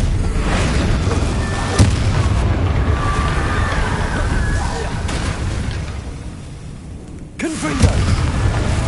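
Stupefy stunning spell cast in a Harry Potter video game, heard as dense, busy magical blasts and booms with sharp impacts near the two-second mark and again near seven and a half seconds, over continuous game ambience.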